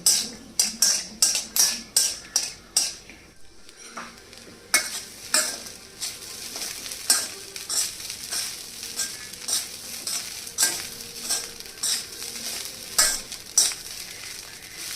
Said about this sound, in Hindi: इसमें मूंगफली को फ्राई करके निकालूंगी और राई का तड़का दे के पोहे डाल दूंगी